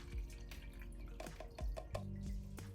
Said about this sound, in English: So now I'm just gonna pour the paint with the water